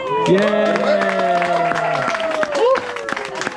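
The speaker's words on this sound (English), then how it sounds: "we give them a nice round of applause on 3" Audience applause and cheers after a card trick at a family magic comedy show in Atlantic City, with clapping mixed under loud voices and a rising whoop, tapering toward the end.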